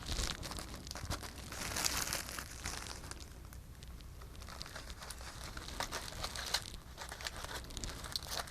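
Plastic bag crinkling and rustling as it is lowered over a potted plant, a steady, soft crackle that continues throughout with no voices.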